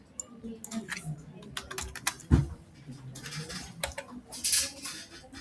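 Rapid, uneven computer keyboard typing with one louder key thump partway through, fairly close and running throughout, with short gaps between bursts and faint background noise beneath.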